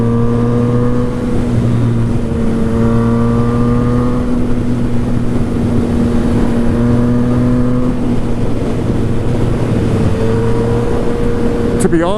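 A Yamaha FZ-09 motorcycle drones loudly and steadily while being ridden, its engine note rising and falling slightly with throttle changes over constant wind rush, and a voice can be heard along with it.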